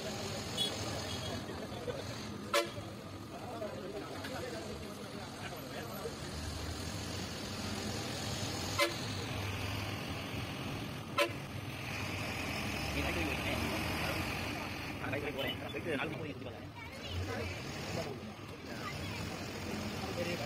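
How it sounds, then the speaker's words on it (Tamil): A bus engine runs steadily on a Chinnamanur to Megamalai route as it starts and pulls away, with a few sharp short horn honks cutting through, while people talk nearby. "வண்டியை ஸ்டார்ட் பண்ணிட்டாங்க, சரி போகலாம் வாங்க"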